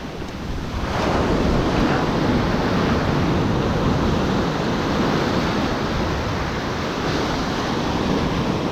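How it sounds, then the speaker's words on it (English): Ocean surf on a foggy morning beach crashes in a continuous broad roar of breaking waves, loud and close, with wind buffeting the microphone throughout. "Look at these waves."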